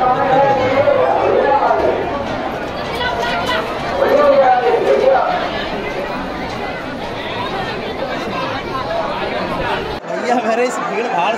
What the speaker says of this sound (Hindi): पीछे यहाँ पे जो है भीड़ लगी हुई है राधा रानी का दर्शन करने के लिए।